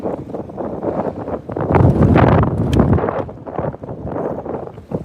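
Strong wind buffets the microphone on a bass fishing boat, a loud rumbling, crackling roar that surges and gusts continuously without letup.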